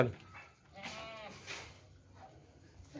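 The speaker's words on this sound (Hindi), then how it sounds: "बहुत ज़बरदस्त बकरी है, खूबसूरत देसी मक्खी चीनी" A red and white desi goat with her kid gives short, faint bleats at an outdoor goat market, partly buried in background noise and murmur, with a voice speaking nearby.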